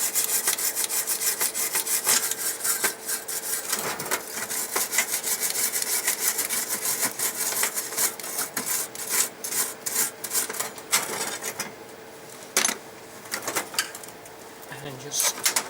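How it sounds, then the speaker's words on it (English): An old wire brush scrubs parts clean with fast, rasping strokes that run steadily and up close, then thin out into sparser scrapes toward the end. "give those a little bit of a clean up with the old wire brush"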